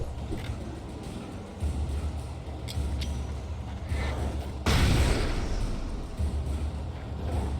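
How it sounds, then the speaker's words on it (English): Blasts from flashbang grenades in the video game Alan Wake, with a loud broadband burst near 4.7 seconds over constant rumbling game ambience and lesser thuds earlier in the mix. "It took 3 flashbangs to bring that dude down."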